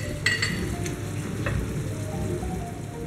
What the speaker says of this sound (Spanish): cuando la carne esté casi hecha, vamos a añadir el tomate frito